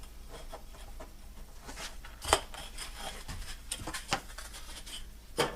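Someone cuts a countertop template, making a series of soft, irregular snips and scraping cuts at close range. They are faint overall, with a few sharper clicks standing out and no talking.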